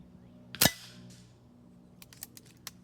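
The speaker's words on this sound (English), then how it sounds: "Boy, he's shooting a nice group" A single sharp, close crack from a MaCavity Arms .22 sniper rifle, followed by a few faint clicks and ticks.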